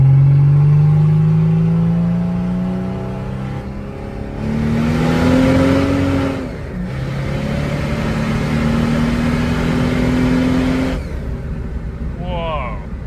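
Mercedes OM603 super turbo diesel car pulling hard in second gear, engine note climbing steadily through revs with a brief dip at a shift, loud and close, ending with a quick whistle-like sweep.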